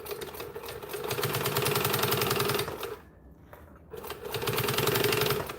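Sewing machine top stitching fabric for a handmade bag, a steady close mechanical rattle that runs, pauses briefly for about a second, then resumes at the same even pace.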